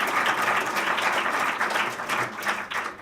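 Sustained applause from an awards-ceremony audience, a dense steady wash of many hands clapping close and loud for about three seconds, with no talk over it.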